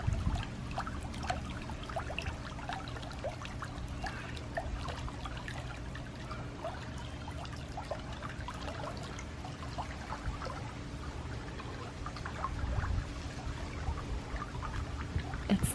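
Water trickling and splashing steadily in a backyard pool, a continuous soft pouring texture with faint background hum and no talk, mild outdoor ambience throughout.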